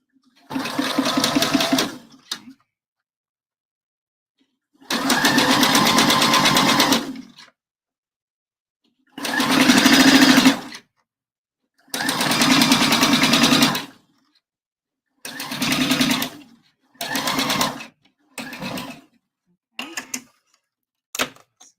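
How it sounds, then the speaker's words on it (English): A sewing machine stitches bra cups in loud, close bursts of whirring, starting with long runs of several seconds and ending in shorter, quicker spurts with silent pauses between, no talking. "I'm going to do that for the other cup too"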